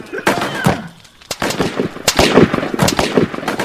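Gunfire in a period audio drama, a rapid series of sharp sharp cracks and bursts, loud and close, rattling on for several seconds with voices shouting underneath.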